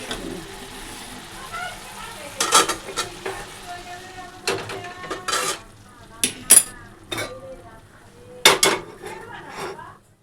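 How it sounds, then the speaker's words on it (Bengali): Dal with a spice tempering set in a pot, heard as a quiet background sizzle broken by repeated clanks and scrapes of utensils against cookware, with a voice speaking intermittently. "এই যে একেবারে ফোড়ন দিয়ে বসিয়ে দেবো।"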